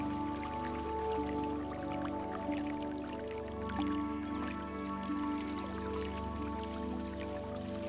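Water from a natural source trickles and splashes steadily into a bottle as it fills, with a constant tonal hum running underneath.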